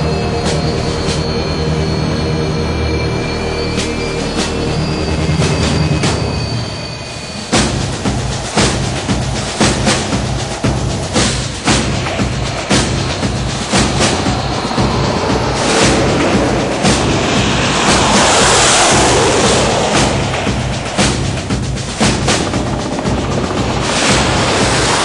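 Su-30 MKI fighter jet on its takeoff run and climb, a loud sustained engine roar that shifts and surges partway through, with a rapid rhythmic rattling pulse running underneath and growing broader and rougher as it gets airborne.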